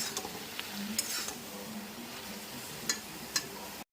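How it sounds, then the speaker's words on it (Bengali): Mustard paste masala frying in a pan with pumpkin greens: a faint, low sizzle under occasional light spatula clicks and scrapes, fairly quiet, close, and without talk. "এবার আমি সর্ষে বাটা যে মশলাটা করলাম, সেই মশলাটা এর মধ্যে দিয়ে দেবো, তারপর একটু কষিয়ে নেব।"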